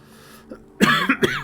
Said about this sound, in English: sorry for the cough again